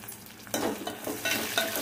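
Dried red chillies and small shallots frying in hot oil for pappu charu, a steady close sizzle with scraping stirs every half second or so, no talking.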